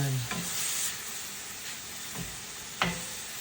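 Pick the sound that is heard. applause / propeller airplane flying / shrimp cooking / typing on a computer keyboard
shrimp cooking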